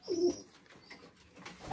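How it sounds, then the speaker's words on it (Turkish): Homing pigeons in a coop give a short, close coo near the start, then quieter rustling follows with no speech. "Yeni posta güvercinlerim."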